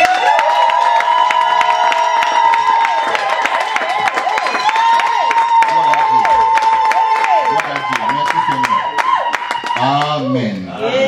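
A church congregation acclaims and cheers during a French-language revival service, loud continuous crowd noise with shouts, cheers and scattered clapping filling the space.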